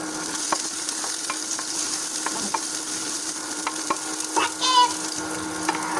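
Tomatoes hiss and sizzle in a hot pan while vegetables are stir-fried for ginisang gulay, a steady close frying sound with a few light clinks of a utensil.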